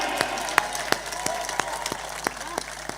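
Sparse, scattered handclaps ring out over crowd murmur at a Hindi comic poetry recital, a thin and uneven round of applause rather than a full ovation.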